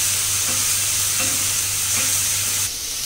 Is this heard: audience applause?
no